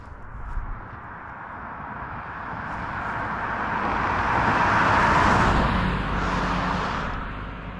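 A car passes along a road, its broad rumble swelling gradually from faint to a loud peak before easing off again as it moves away.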